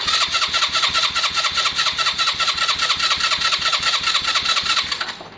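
A Piaggio Fly 125 scooter engine cranks on its electric starter button in a fast, steady whirring rhythm that runs for about five seconds without catching, close and loud, with no talking.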